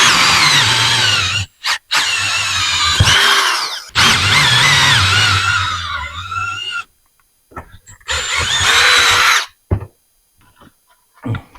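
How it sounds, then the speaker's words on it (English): A power drill boring holes through a plastic box on a car air ride project, with loud whining bursts of drilling broken by short pauses, then quieter handling noises. "So I think I'm going to drill the same size holes through that plastic."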